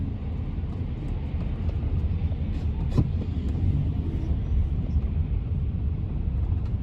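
Steady low rumble of busy afternoon city traffic in Hong Kong, heard from inside a moving car among tall buildings, a continuous near engine-and-road drone with a brief louder swell around the third second and no talk.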